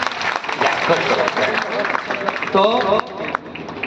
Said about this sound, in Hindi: पंकज के लिए जोरदार तालियां।